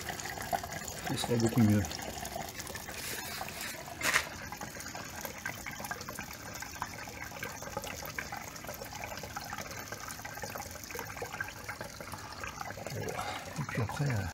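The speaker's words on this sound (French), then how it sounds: "Là je vais mettre du liquide de refroidissement pur." Pure coolant poured into the radiator of a Kubota B7001 compact tractor, a steady liquid trickle running under a man's speech, with a brief louder splash early on.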